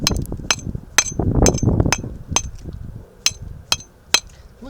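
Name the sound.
hammering a chisel to chip a brick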